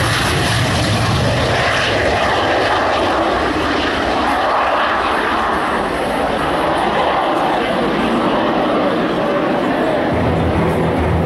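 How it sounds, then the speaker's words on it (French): A 1950s single-engine jet aircraft takes off slowly at an air show, its loud continuous engine roar filling the scene, with voices faintly mixed underneath. "Monoréacteur des années 1950. Regardez le décollage, c'est impressionnant de lenteur."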